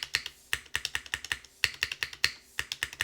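Rapid typing on a Constance TKL mechanical keyboard with a PP plate, a close, fairly quiet run of crisp clacky keystrokes in an uneven rhythm with a few bunched bursts, and no talking.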